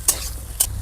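Vegetables being stirred in a frying pan during village cooking give two quick scraping sizzles, spaced about half a second apart over a faint background hiss.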